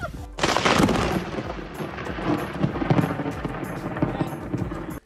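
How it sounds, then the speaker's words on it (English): A loud crack of a lightning strike followed by heavy rolling thunder during a wedding, booming and rumbling for several seconds before cutting off abruptly. "that's when the lightning hit"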